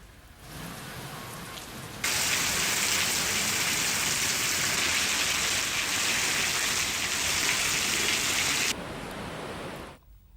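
Heavy rain pours down in Jaipur as a loud, dense, steady hiss that starts abruptly, holds for about seven seconds, then drops back to a softer wash of rainfall.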